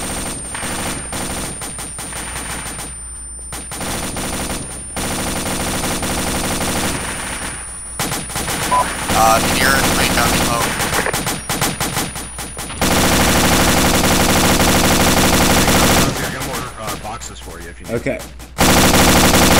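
Machine gun fire in the Arma military game Gothic Line, long loud sustained bursts hammering almost continuously with brief pauses between, and a single short spoken word partway through.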